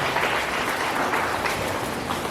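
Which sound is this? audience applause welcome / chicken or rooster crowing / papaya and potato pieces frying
audience applause welcome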